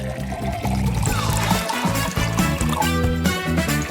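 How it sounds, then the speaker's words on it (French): Hot water poured onto noodles, a steady splashing stream with gurgling as the container fills, close and continuous with some background noise. "On va mettre de l'eau chaude."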